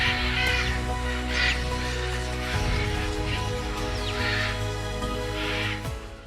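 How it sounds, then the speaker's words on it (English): Scarlet macaws call repeatedly at a rainforest salt lick in South America, a flock of harsh, raspy squawks in recurring bursts over a steady low hum, fairly close and loud throughout. "scarlet macaws."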